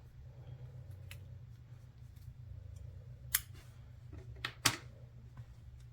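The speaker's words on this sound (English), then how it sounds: "and then I cut my yarn" Scissors snip yarn close up in a quiet room: a few soft cuts, then two sharper metallic clicks near the end over a low background hum.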